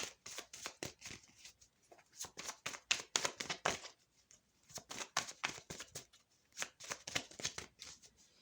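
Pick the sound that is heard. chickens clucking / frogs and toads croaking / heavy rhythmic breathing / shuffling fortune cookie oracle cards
shuffling fortune cookie oracle cards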